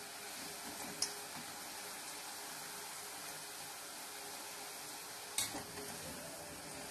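Bonda fritters frying in hot oil on a medium flame, a constant soft sizzle and bubbling throughout with two brief sharp clicks of a utensil, no talking.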